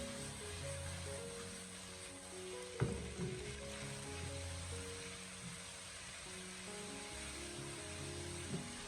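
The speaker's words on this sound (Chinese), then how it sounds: "我们需要开大火进行快速的翻炒" Winter melon and pork slices stir-fried in a wok over high heat, with a steady close sizzle and frying hiss throughout and a couple of sharp clanks of the spatula against the pan.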